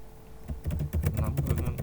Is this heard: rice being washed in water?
no